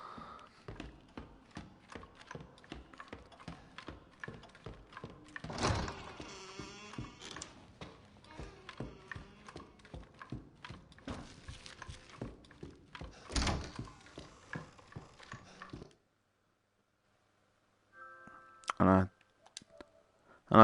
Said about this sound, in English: I love the reloading in VR.